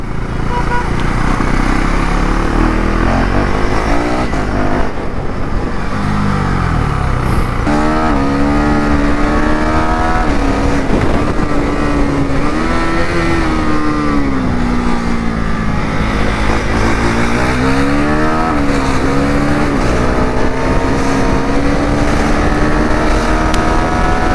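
A Husqvarna Svartpilen 401 motorcycle engine is ridden at fairly high revs, its loud buzzing tone rising and falling through throttle changes, with constant wind noise rushing over the microphone.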